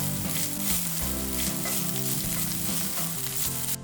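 A finely crushed ginger, garlic and green chilli paste fries in a pan for a Hyderabadi mirchi ka salan, giving a steady close crackling sizzle with stirring scrapes. No one speaks.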